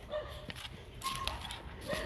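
A small neighbor's dog barks in short, repeated yaps and whimpers at moderate distance, with quiet background ambience between the barks.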